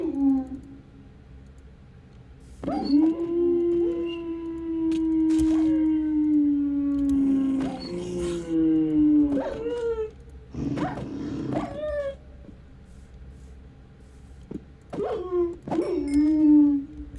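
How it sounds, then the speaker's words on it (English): A Minecraft wolf howls and growls in the game, with long sustained howls separated by short whimpers and clipped growls, loud and close, rising and falling across the stretch. "Wolf growls."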